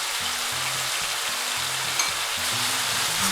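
Chicken for Thai holy basil chicken (pad krapow) stir-frying with dark soy, oyster and fish sauces and sugar, a loud continuous sizzle with faint background music underneath and no talk.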